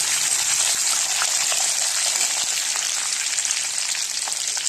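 Sesame seeds spluttering in hot oil while idli fry is being made, a steady close crackling sizzle with scattered sharp pops and no talking.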